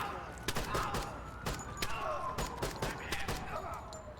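Scattered gunshots crack through a street gunfight in a downtown combat search-and-rescue mission, moderately distant and fairly quiet, arriving in uneven single shots and short bursts while someone talks over them.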